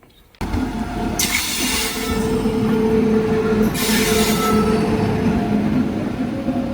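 A train rumbles steadily along the tracks on the Konkan Railway, loud and close, with bursts of high metallic wheel squeal; a Ro-Ro train carrying lorries.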